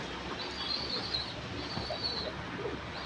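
Bombai pigeons coo softly beside newly hatched chicks, a faint low murmur of cooing set against steady room noise, with no talking.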